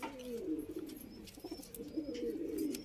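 A male white china pigeon coos in a soft, repeated rolling call, close and fairly quiet, with faint chirps from other birds in the loft.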